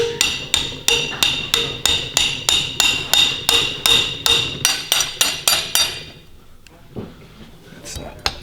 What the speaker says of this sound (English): Just make sure that you do not bind your rocker and continue to hammer it.